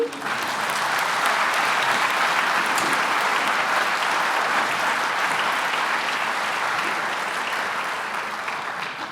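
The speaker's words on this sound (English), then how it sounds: "Perhaps a round of applause for our fantastic technical team" An audience at a KU Leuven Patroonsfeest concert applauds the technical team, a steady, even wash of clapping that carries on at moderate volume for several seconds.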